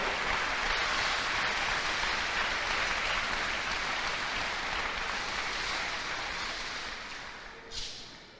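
Sustained applause from a church congregation clapping for the Lord, a dense steady wash of many hands that tapers off near the end.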